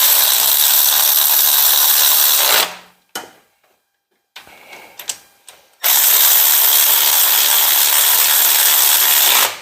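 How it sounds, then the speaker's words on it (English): Rapid pawl clicking from a ratchet wrench on a 1957 car, loud and close, in a long burst and then another after a short gap filled with a few faint knocks. "this ratchet, lucky if this ratchet here gives you 10 pounds, if that"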